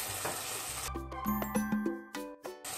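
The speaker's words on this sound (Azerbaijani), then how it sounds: "Yenidən bir qədər qovururuq." Meat, onion, carrot and peppers stir-frying in a pan for bulgur plov, a steady close sizzle with scraping stir strokes and clinks, no talking.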